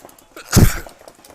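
A single sharp, loud sneeze bursts out close by during a paintball tournament, brief and alone against faint background noise.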